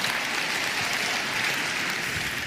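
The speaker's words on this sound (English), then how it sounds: "Let's clap it up for these guys." An audience claps steadily, a dense, even wash of applause at moderate loudness, continuous from start to finish.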